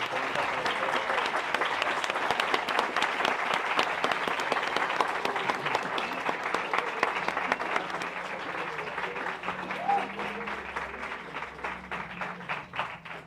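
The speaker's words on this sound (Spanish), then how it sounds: "me gustaría que todos le diéramos un aplauso a la maestra" An audience at a community gathering on indigenous rights applauds a teacher, sustained clapping with distinct crisp hand claps that stays fairly loud, thinning slightly toward the end, with faint voices underneath.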